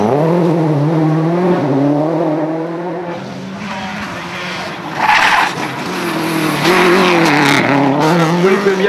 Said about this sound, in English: here comes Paul Bird in the supercasino.com Ventaxia